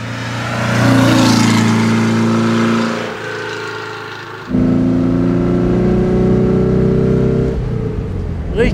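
A 1963 Porsche 356 B four-cylinder engine, tuned to about 160 hp, drones loudly and steadily up close. Its pitch shifts as it revs, dips briefly, then surges back and holds.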